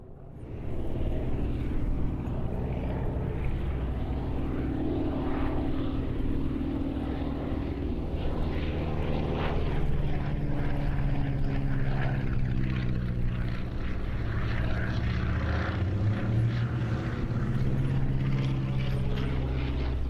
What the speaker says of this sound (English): Completing the German element of Flying Legends 2004 were two Jungmeisters, flown together by Anna Walker and Taff Smith